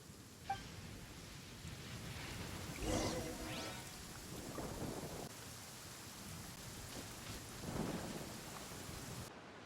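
Heavy downpour hisses steadily in the Genshin Impact video game, with rolling thunder swelling in a few low rumbles that rise and fade beneath the rain.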